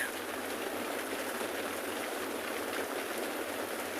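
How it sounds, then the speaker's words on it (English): Steady, dense rain falls during an afternoon wildlife safari in Africa, a continuous even hiss with no breaks that fills the whole stretch at moderate, close range. "See the amount of rain"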